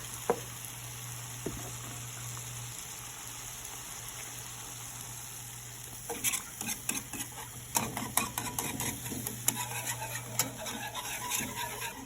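Pork gravy made from drippings and milk simmers in a pan, a steady low bubbling at first, then busier with scattered pops, spoon scrapes and light clatter from stirring; no one speaks.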